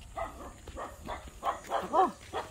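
A dog on a farm with cattle around gives a string of six or seven short barks, moderately close but not loud, over a low background hum.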